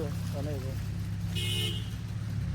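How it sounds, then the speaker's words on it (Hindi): A car horn sounds once, a steady mid-pitched tone lasting about a third of a second, in a supermarket car park amid constant low traffic and engine rumble, with people talking nearby. "वो देखो भाई हॉर्न पड़ गया"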